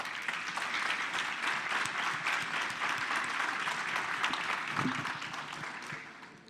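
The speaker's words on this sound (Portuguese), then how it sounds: "uma salva de palmas." Steady audience applause at a fashion industry talk fills the room at moderate volume and fades slightly toward the end.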